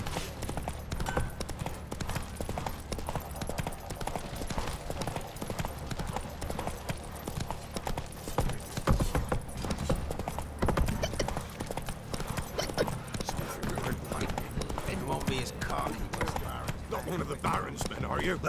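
Roach the horse gallops in The Witcher 3, a continuous fast clip-clop of hooves at moderate level throughout, with game speech occasionally over it.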